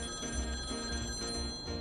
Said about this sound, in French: mon téléphone sonna